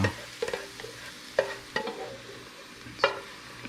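Eggs stir-fried in a hot pan for fried rice with Chinese sausage and bacon: several sharp spatula scrapes and clanks over a soft sizzle, close and fairly quiet, with no talk.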